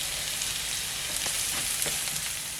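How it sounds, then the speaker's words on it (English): Green chilies and chopped coriander stems fry with onions in a pan, making a steady, close sizzle with a few faint stirring scrapes and no voices. "I'm going to add the green chilies and the chopped coriander stems."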